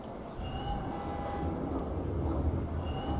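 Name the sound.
metro train noises in an old Mac video game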